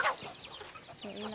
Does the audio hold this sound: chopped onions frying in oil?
no